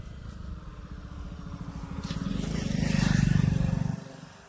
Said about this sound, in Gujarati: બાઇક ચાલુ જ છે